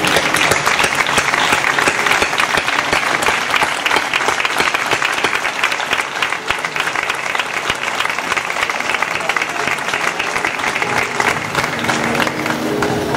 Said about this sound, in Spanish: Le quiero dar un fuerte abrazo y un aplauso fuerte para Rafael Soto, que está ahí con nosotros.